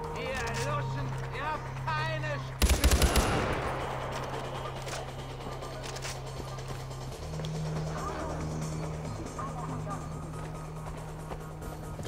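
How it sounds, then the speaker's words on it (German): A sharp burst of rapid gunfire in the video game Far Cry 4 cuts through steady engine hum and someone talking, with game background noise continuing after the shots. "Das war ein schöner Schuss."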